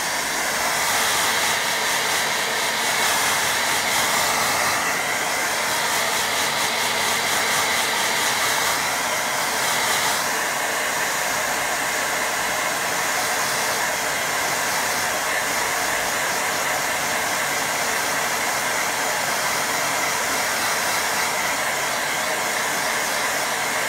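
A hair dryer blows steadily and loudly for the whole stretch, a continuous close whooshing hiss aimed at a wet watercolour painting of a small cottage.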